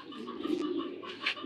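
Soft, steady cooing of a young female racing pigeon fills the short stretch, with a brighter call rising near the end; there is no talk.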